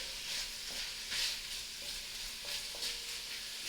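Sausage frying in a pot for a low-carb Cajun gumbo, a steady close hiss and sizzle with faint stirring scrapes now and then and no talking.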